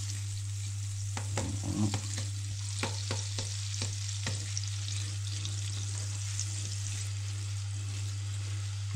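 Butter melting and sizzling in a frying pan for venison chops, a steady close frying hiss with a few clicks and scrapes of stirring, a brief word spoken near the start.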